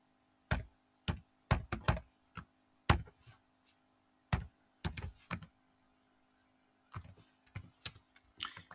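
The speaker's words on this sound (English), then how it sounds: "Well, type in my calculator." Numbers are tapped into a calculator: crisp, close plastic key presses that come in quick bursts with short pauses between, heard alone and fairly quiet.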